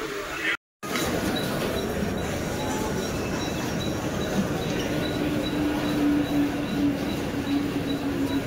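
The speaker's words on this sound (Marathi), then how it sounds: "तर आता मला फायनली ट्रेन भेटलेली आहे." A train ride in a crowded first-class compartment on a Mumbai-style suburban line gives a steady, loud rolling rumble, broken by a brief gap, with faint tonal squeals and a soft background murmur of voices.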